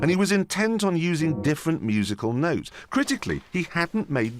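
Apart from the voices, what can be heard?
None of the usual background noises is heard.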